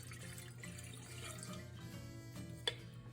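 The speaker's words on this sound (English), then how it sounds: "you take a pot, add some water to it" Tap water runs into a cooking pot to make a makeshift double boiler, a fairly quiet, steady pour with one brief clink near the end and no talking.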